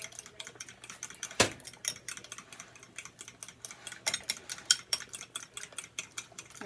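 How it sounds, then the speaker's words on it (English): Eggs being whisked for a torta de huevos, a quick run of light, irregular metallic clicks and taps against a bowl, faint and close with no talking. "Make sure I get it all nicely whisked up"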